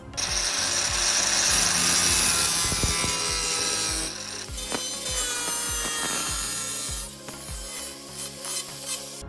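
A hand file rasps back and forth across the jagged edge of a metal patch panel for a Porsche restoration, in steady loud strokes that thin out toward the end.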